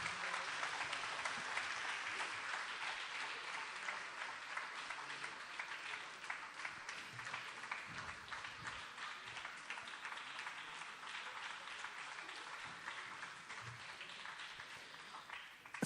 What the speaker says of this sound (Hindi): सामाइन से गुजारिश करता हूँ कि पुरजोर तालियों के साथ में इस बच्चे का एजाज़ करें